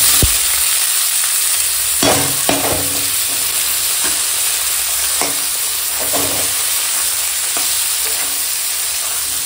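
Cabbage hits a cumin tempering in a hot pan and fries with a loud, constant sizzle, with occasional clanking stirs and scrapes spread through the clip; nobody talks.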